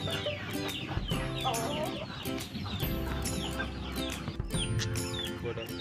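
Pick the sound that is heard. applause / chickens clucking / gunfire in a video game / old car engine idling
chickens clucking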